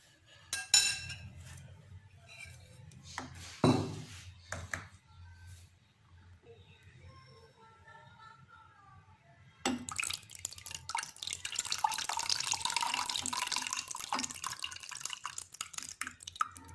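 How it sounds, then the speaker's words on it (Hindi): Fresh orange juice is poured into a glass: after scattered clinks and drips, a steady liquid stream runs for the last seven seconds, close and moderately loud. "और अभी मैं इसे एक ग्लास में शामिल कर देती हूँ"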